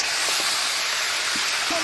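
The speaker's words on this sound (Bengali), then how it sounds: "এখন আমি মাংস দিয়ে দিচ্ছি।" Meat drops into a pan of fried spice paste and sizzles in a steady, loud, close hiss of frying that holds evenly throughout, with faint bumps from stirring.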